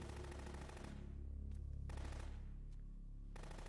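Automatic gunfire rattles in rapid, dense bursts in Metal Gear Solid 2, loud and close, split by short gaps of lower rumble before firing picks up again.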